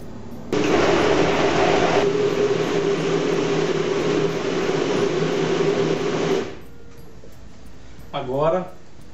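Blender whirring loud and steady for about six seconds as it mixes green corn cake batter with the liquid ingredients added first, then cutting off and leaving a quiet room with a brief sound near the end.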